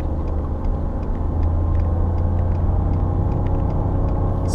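A Ford F-150 pickup towing 6200 lbs on a wet road gives a loud, steady, deep engine rumble with continuous road roar, heard from inside the cab without talk.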